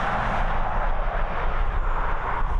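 A jet airliner on approach to Dublin Airport, arriving from Basel, gives a steady, broad engine roar at close-to-moderate distance, continuous for the whole short stretch with no talk over it.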